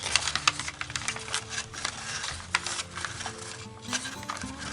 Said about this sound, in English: So we're folding on these 2 diagonals.